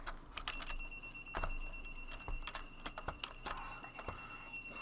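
A dryer alarm repeats sharp electronic beeps in steady high tones over a busy room, with clattering knocks and bumps scattered around it.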